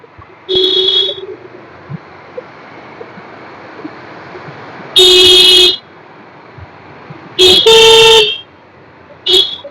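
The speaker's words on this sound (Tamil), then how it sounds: "இப்ப பின்னாடி வண்டி வருது" Car horns honk on a road near a bridge, several loud close blasts of varying length, one brief, one held about a second and a double toot, over a low steady background of traffic.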